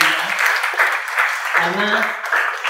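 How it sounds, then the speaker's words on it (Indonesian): An audience in a hall claps loudly for mentors and supervisors at a testimonial and motivation event, producing dense, sustained applause. Someone talks over the clapping at the same time. "aku mau minta teman-teman semua buat tepuk tangan paling keras buat para mentor dan para pembina."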